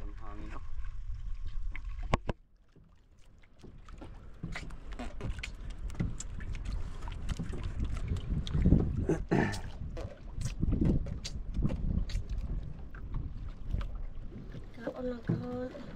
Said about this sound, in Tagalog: Yung hangin oh.